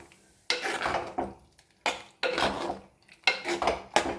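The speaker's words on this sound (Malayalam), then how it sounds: "ഇതിന് നല്ലോണം ഒന്ന് ഇളക്കി കൊടുക്കുക. കുറച്ചൊന്ന് ഇതേപോലെ ഉടച്ചു കൊടുക്കാം." A spoon scrapes and clatters against a pot while pumpkin curry is stirred and mashed, in about five separate bursts of close metallic scraping with short quiet gaps between them.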